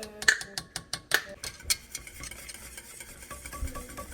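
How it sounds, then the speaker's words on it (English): A spoon stirring vanilla into a warm German chocolate cake mixture in a bowl, making a rhythmic series of light clicks and scrapes that slow and soften toward the end. "Mix that in that vanilla."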